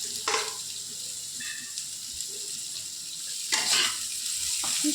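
Amaranth greens (note shak) with chili and turmeric, stirred in a sizzling pan. A steady close frying hiss runs throughout, broken by a few brisk scraping stir strokes, with no talking.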